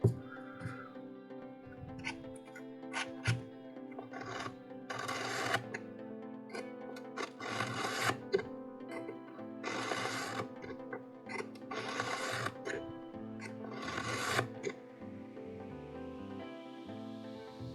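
Repeated bursts of scraping, grinding strokes come in uneven clusters with short pauses between, close and fairly quiet, a knife blade drawn across a ceramic sharpener.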